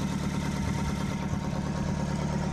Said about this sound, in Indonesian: ini suaranya sih unggul lur untuk mesinnya ya masih sip istimewa